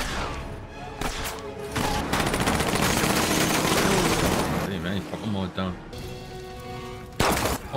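Rapid gunfire from the film Captain America: The First Avenger, a dense loud burst of shots and battle noise running almost throughout, with film voices and reaction talk mixed in.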